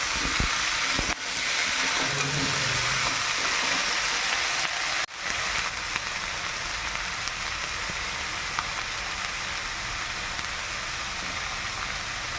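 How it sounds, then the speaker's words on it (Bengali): Vegetables added to a pan of fried onion and garlic give a loud, continuous hiss of steam and sizzle, with a brief clatter early on and no voices. "এবার সবজিটা দিয়ে দিলাম।"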